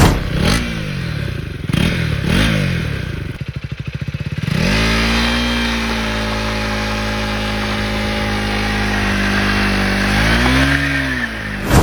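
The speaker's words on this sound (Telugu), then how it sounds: "ఇప్పుడు మనం ఈ బైక్ ని రైడ్ చేస్తూ మాట్లాడుకుందాం." A KTM Duke 250 Gen 3 motorcycle engine, loud and close, blips through a few sharp revs, then settles into a steady droning run while riding, with a rise in pitch near the end.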